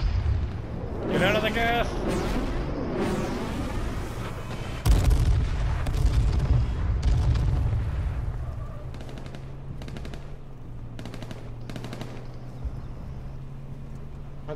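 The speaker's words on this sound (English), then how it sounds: "I'm gonna throw an airstrike down over here." Heavy booming explosions and rattling gunfire from an airstrike in the survival game H1Z1, loud blasts at the start and again midway, with voices shouting over the chaos and sporadic shots trailing off.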